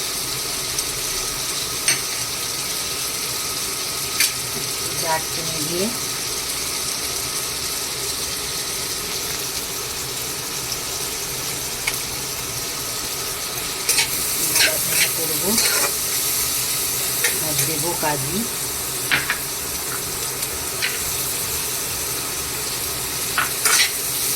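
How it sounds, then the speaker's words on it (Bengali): Bay leaves, cloves, cardamom and whole garam masala fry in hot oil for a chicken butter masala, giving a steady close sizzle with scattered clinks and scrapes of stirring, busier toward the end. "তেজপাতা দেব গোটা গরম মশলা লবঙ্গ এলাচ"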